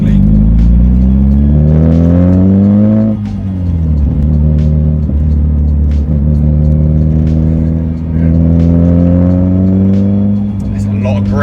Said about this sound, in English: thrash it, like get up through the gears and high revs